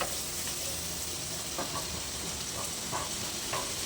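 Onions sautéing in a pan for tomato kurma give a steady, close sizzle and hiss, with a few faint stirring scrapes scattered through.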